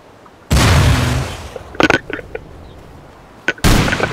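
Rockets blasting a player's base in the survival game Rust, with a loud explosive boom, a few scattered smaller pops and crackles, then another heavy blast near the end.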